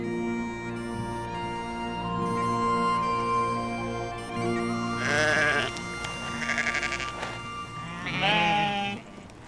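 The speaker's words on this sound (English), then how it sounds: "The sheep belong to an age-old strain of domestic animals that long ago adapted to the harsh conditions of life in the Highlands." Highland sheep and lambs bleat in the Scottish Highlands, with several wavering calls one after another toward the end, clear and fairly close over a steady background tone and a low hum.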